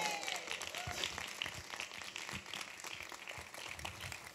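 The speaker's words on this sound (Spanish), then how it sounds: "¡Un aplauso!" An audience at a Christmas special applauds as a singer is brought on stage, a steady wash of many hands clapping that carries on without a break at moderate loudness.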